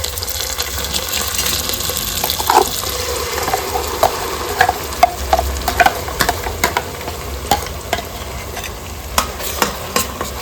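Ground masala for a fish curry fries in oil in a pan, making a steady sizzle while a spoon stirs and scrapes it in irregular sharp clicks and knocks. The sound is close and fairly loud, with no talking.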